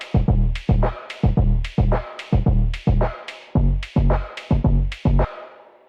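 A lofi bass house drum loop plays steadily: eighth-note hi-hats tick brightly over a swung kick drum whose punchy, pitched-down thumps land in an uneven, bouncy rhythm, loud and upfront with no voices.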